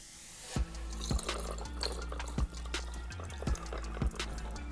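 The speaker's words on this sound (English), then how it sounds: "And then we have to top with this coconut water." Coconut water is poured into a cocktail, a soft liquid stream broken by a regular series of small splashy drips and clinks, close and fairly quiet.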